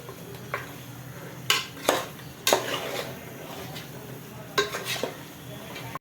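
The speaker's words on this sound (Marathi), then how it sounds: "उरलेलं असं जे मटण आहे त्याचं आपण आपल्या भांड्यामध्ये ॲड करून घेऊया मिक्स करूया आणि शिजत ठेवूया" Mutton being stirred in a cooking pot gives several close scraping clinks of a spoon against the metal, irregularly spaced over a soft continuous sizzle.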